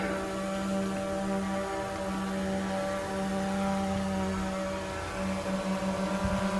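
A DJI Mavic 2 Pro drone hovers and flies nearby at an RV site, giving a steady, loud propeller whine and buzz that holds evenly for several seconds with no one speaking.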